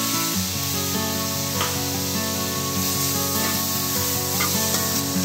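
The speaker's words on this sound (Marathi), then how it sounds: "यामध्ये आपण लगेच टोमॅटो घालून घेणार आहोत." Chopped tomatoes go into a pan of sizzling sautéed garlic while cooking veg pulao, producing a steady hissing sizzle with light stirring scrapes, all beneath prominent background music.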